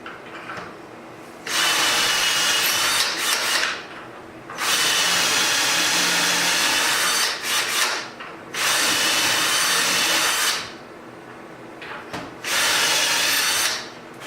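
A power drill whirs in four long bursts, each lasting a few seconds with short pauses between, loud and close, as screws are driven into a wooden drawer front while cabinet drawer pulls are installed using a Kreg hardware jig.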